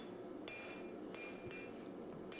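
Hammer forging a Damascus steel knife billet of 1080 steel and nickel powder, three sharp metallic ringing strikes spaced about a second apart over a steady background hum.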